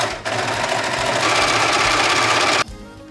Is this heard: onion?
no